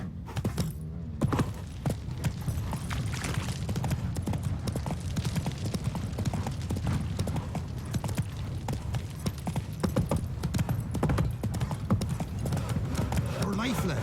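Rhythmic hoof clip-clop of a horse galloping in The Witcher 3, with jangling tack and an occasional whinny, running steadily throughout under game sounds.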